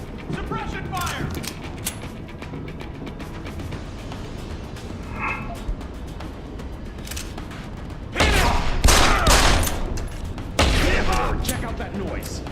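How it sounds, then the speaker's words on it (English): Gunfire erupts during a firefight in Deus Ex: Human Revolution Director's Cut. Loud, dense bursts of shots hit in two clusters after a stretch of tense background noise and scattered sharp cracks, and brief shouted voices are heard. "Suppression fire!"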